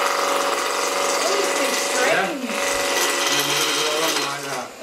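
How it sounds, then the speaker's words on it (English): A woodturning lathe spins while a skew chisel skims the surface of the wood, producing a steady close scraping hiss over a constant motor hum, with a person speaking partway through. "so I'm starting with the skew chisel, trying to get the right angle, where it's just skimming the surface"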